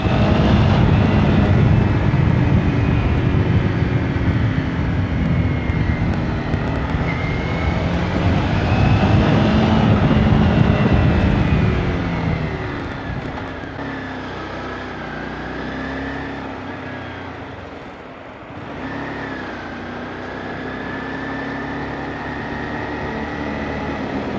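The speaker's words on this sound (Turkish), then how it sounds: "o ne egzoz ya" A single-cylinder motorcycle exhaust drones loudly while riding, with wind rush and pitch shifts as the engine changes speed, then quieting briefly before rising again.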